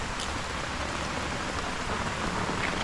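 Steady, dense rain pours down continuously, a loud even hiss with no pauses.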